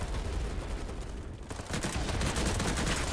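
Rapid automatic gunfire from the shooter game Battlebit rattles in dense, continuous bursts, loud and close, with a brief lull midway before the firing resumes at full intensity; no one talks.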